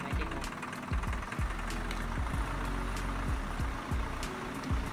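A tractor engine hauling a boat at a yacht club chugs nearby with a steady, knocking low-end rhythm of repeated pulses, fairly faint and continuous.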